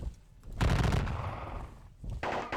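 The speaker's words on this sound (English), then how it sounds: "These guys can now move up to here and shoot." Musket gunfire in a Battle of Dennewitz war game, with two rattling volleys of massed shots, the first longer and heavier, the second short, at moderate volume.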